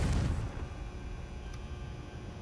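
Confringo fire spell blast in the Hogwarts Legacy video game, a loud booming burst at the start that quickly decays into a lingering low rumble, with a faint brief chime partway through.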